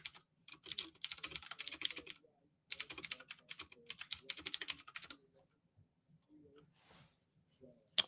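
Fast typing on a computer keyboard in two long bursts of rapid clicking separated by a brief pause, fairly close, followed by quieter scattered clicks and a low voice murmuring faintly underneath.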